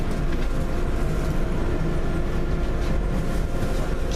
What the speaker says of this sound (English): Just now coming into Limehouse DLR.